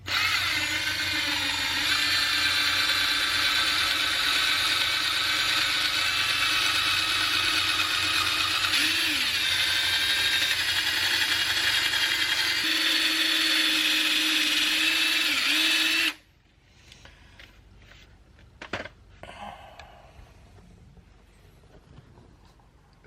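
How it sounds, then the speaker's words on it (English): A drill fitted with a small polishing cone buffs the wheel rims of a 1996 Chevy S-10. It whirs steadily and loudly for about sixteen seconds, with slight pitch dips under load, then stops, leaving faint handling clicks. "So I've got my small cone on the drill."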